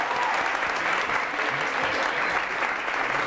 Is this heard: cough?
no